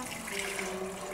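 Liquid is poured into a blender while a smoothie is being made at home, a soft brief splashing trickle heard close and alone.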